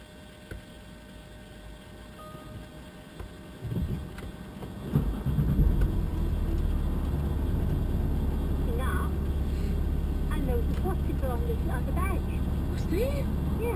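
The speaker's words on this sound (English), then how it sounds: "I'll start the engine." A car engine turns over at about five seconds and settles into a steady low idle inside the cabin, a close constant rumble that continues to the end with faint sounds over it.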